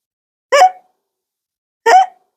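A voice imitates a hiccup twice, two short sharp vocal bursts about a second and a half apart with silence between them.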